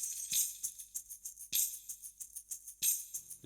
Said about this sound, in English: Then I added a little bit of shaker and also a tambourine